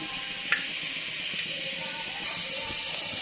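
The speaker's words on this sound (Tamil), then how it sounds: "கடுகு போட்டுக்கிட்டேன், 2 ஜீரகம் போட்டுக்குங்க" Mustard and cumin seeds sizzle in hot oil for a tomato curry, making a steady, close hiss with a few sharp pops scattered through it.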